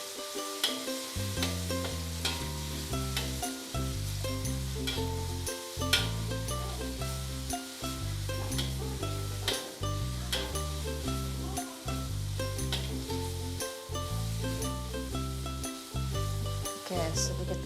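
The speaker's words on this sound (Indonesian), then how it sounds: "Kita tumis sampai harum ya," Garlic and other ingredients for asparagus soup sizzle in a pan while being stirred, a steady frying crackle with scraping strokes running under background music.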